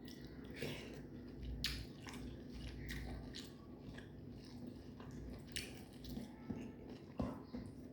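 Close, steady chewing and biting of cooked meat, the meat well boiled and tender, with soft wet squishes and occasional louder bites over low background hum, no talking.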